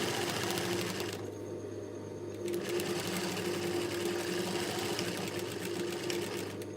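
A sewing machine runs a double stitch along a marked line on a dressmaking top, its motor whirring in a steady continuous drone with a brief lighter stretch early on, close and alone.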